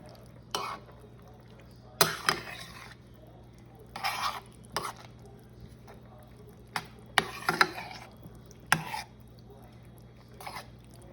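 A spoon stirs sauce with a splash of added water in a pan, giving a series of short scraping and clinking bursts spaced a second or two apart over a low steady background hum.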